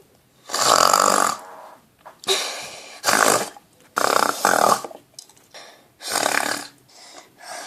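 Loud, rhythmic snoring comes in repeated harsh bursts separated by short pauses, up close and with no other sound around it.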